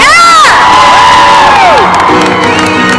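A live show audience erupts in loud, close cheering, with high shouts and whoops rising and falling across the crowd for the whole stretch.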